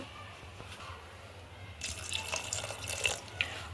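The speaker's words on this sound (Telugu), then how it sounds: "ఇప్పుడు ఇందులోకి కావలసినన్ని వాటర్ అనేది వేసుకోవాలండి" Water runs steadily from a tap into a cooking pot for spinach dal, growing louder and splashier partway through, with a low hum underneath and no voices.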